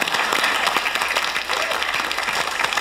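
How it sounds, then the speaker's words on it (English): A TV quiz show studio audience claps continuously, a dense, even patter of many hands at moderate loudness. "Can I just a little round of yes, applause?"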